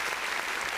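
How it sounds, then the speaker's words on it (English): A brief dense wash of applause on a live radio stream, a steady hiss of many clapping hands with no separate claps standing out. "Can I give myself an applause?"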